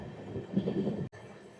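Steady rumble of the 12347 Shahid Express running on rails, heard from on board while trailing a local train, with a brief dropout near the end before the rolling noise resumes.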